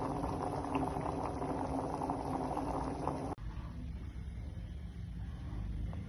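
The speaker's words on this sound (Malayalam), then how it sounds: "വെള്ളം തിളയ്ക്കാനായിട്ട് വെച്ചിട്ടുണ്ട്" Water churns at a rolling boil in an electric kettle for rice gruel, a steady bubbling roar close by that drops abruptly partway through and carries on slightly quieter.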